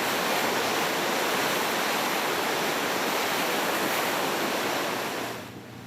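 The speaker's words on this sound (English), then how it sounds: "That kind of rushing water is feeding this crisis" Floodwater rushes loudly during the Alberta floods, a dense, steady roar close up with no breaks, easing slightly only at the very end.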